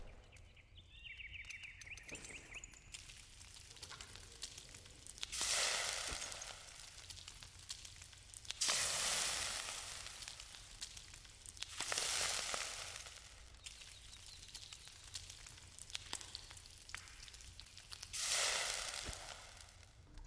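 Food sizzles in bursts in the survival game Enshrouded, with four loud, broadband swells of frying hiss rising and fading at steady intervals over a quieter crackling bed, with no voices.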